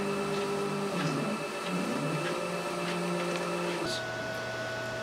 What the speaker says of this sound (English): as soon as that the print comes out, we'll take a look at it